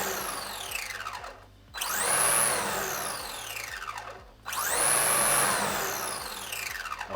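Team Associated SC10 RC short-course truck with its electric motor spinning the wheels in two quick bursts, each a rising then falling whine, close and loud with a brief drop between.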